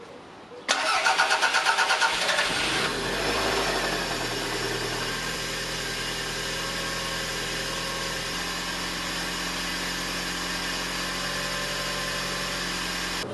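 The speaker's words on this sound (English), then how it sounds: "so I'm going to start the engine and hope that everything goes well" A Toyota MR2 engine, freshly refilled with coolant after a new radiator, cranks briefly with a rapid whirring starter, catches with a loud rising roar, then settles into a steady close idle with no talk.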